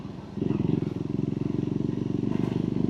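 A Triumph Scrambler 400X single-cylinder engine thumps through its exhaust, with a fast, even pulsing beat that jumps louder as the throttle opens, close and prominent.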